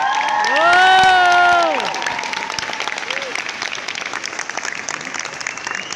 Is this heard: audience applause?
yes